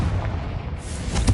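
A fire-blast spell explodes in a wizarding-school action video game, a dense rumbling boom that rolls on without pause for over a second, loud and close.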